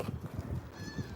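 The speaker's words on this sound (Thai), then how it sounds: "ห่านบินน่ะ" Several geese honk faintly in short, repeated nasal calls, sounding distant and overlapping.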